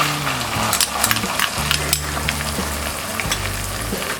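Green peas, potatoes, carrots and beans frying in a pan for masala rice, a loud close sizzle with scraping stirs and light clinks of a spoon against metal.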